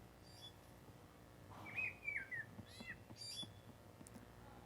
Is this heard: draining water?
no